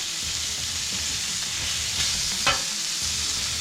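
Sausage sizzles steadily on a Blackstone griddle set around medium-high heat, a continuous close frying hiss with a few sharper pops and a brief clink near the middle, no voices.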